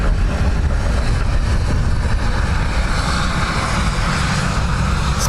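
A fixed-wing airliner on approach to runway 28 left at Dublin Airport on a windy day, its engines a loud, continuous roar that stays steady with buffeting wind noise throughout.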